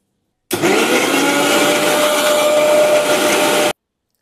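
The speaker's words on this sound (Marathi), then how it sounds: "आता मी हे सगळं घालून वाटून घेया।" A mixer grinder whirs loudly as it grinds green masala, starting abruptly, holding a steady high-pitched motor roar for about three seconds, then cutting off sharply, with no voices over it.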